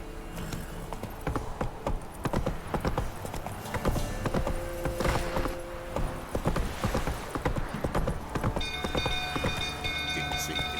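Horse hooves clip-clop in a steady trotting rhythm in the video game Witcher 3, close and continuous beneath game ambience, with a faint tonal chime near the end.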